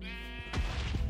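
Sheep bleating in Minecraft, a short wavering bleat over a steady droning background, followed by a dull thump and some scuffing, close and fairly loud.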